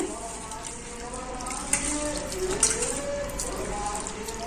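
Soaked urad dal being rinsed in water for idli batter, with steady close sloshing and trickling of water and a couple of sharper splashes, while a voice is faintly present underneath.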